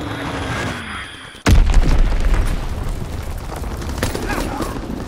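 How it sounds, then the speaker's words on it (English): A heavy bomb explosion in Call of Duty: WWII multiplayer bursts in suddenly with a loud, deep boom, then rumbles and crackles for several seconds amid distant battlefield noise. "Enemy bomb incoming! Get to cover!"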